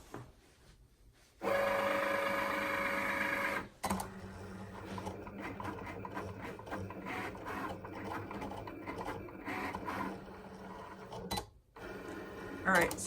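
A Cricut cutting machine starts up with a steady whirring hum for a couple of seconds, then shifts into busy clattering and buzzing motor movement that carries on with brief pauses, heard up close.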